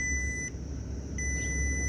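A fish finder sonar alarm beeps on a boat over deep water at an estuary mouth, a steady high electronic tone that drops out briefly and then resumes, heard alone over a low hum.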